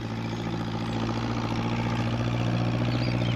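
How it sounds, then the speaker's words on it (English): A farm tractor engine runs steadily at close range, a constant low droning hum with a strong harmonic rumble and no breaks or voices over it. "What with the noise of the tractor, Peter Fogg didn't hear Pat's call."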